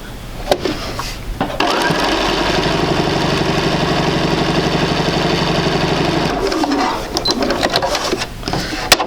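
A sewing machine stitches a seam across a quilt block, running steadily and close for about six seconds with a dense mechanical whir, framed by brief handling noises before and after.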